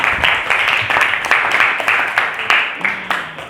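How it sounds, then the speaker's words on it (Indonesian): A small group applauding a student named Fikar in a classroom lesson, distinct rhythmic claps at a steady pace, fairly near and fading slightly toward the end. "tepuk tangan untuk Fikar"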